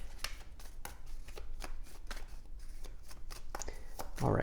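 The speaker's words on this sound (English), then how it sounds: "Let's get 3 cards here for the future." Tarot cards being shuffled and drawn during a reading: a steady run of crisp papery riffles and flicks, close and moderately loud, with a brief rustle as a card is pulled at the end.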